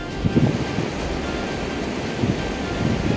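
Sea waves breaking on the shore at Ratnagiri during a coconut offering, a steady roar of surf with a couple of heavier wave surges rising near the start and toward the end, with wind buffeting the microphone.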